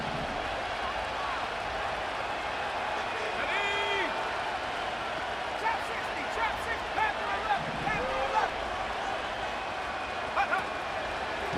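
Stadium crowd in the football video game Madden NFL 25, a steady murmuring roar with scattered louder swells, running under a commentator's voice throughout.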